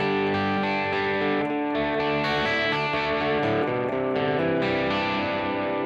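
A Gretsch Malcolm Young model electric guitar playing a steady chord riff with a fairly clean, lightly driven tone, played with a gentler touch, close and continuous throughout.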